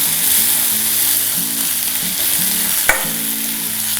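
Onions and greens fry in a hot pan with a steady, loud sizzle, broken by repeated scraping strokes of stirring and one sharp knock, no voices present.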